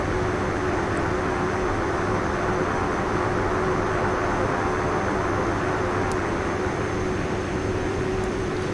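A Carenado PC-12 turboprop in X-Plane 11 coming out of reverse thrust to ground idle on landing at St. Barth's, a steady loud broadband turbine roar with a constant whine throughout.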